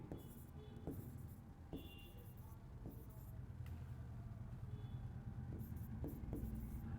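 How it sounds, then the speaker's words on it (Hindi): Pen or chalk scratches and taps sound intermittently while the full form of ASI is written out, soft, irregular strokes with distinct clicks, set against a low rumble of passing road traffic. "यहां पर इसकी मैं फुल फॉर्म लिख देता हूं"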